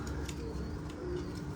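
Soft, low cooing of a slate pigeon with yellow eyelids close by, steady and muffled, with no talking.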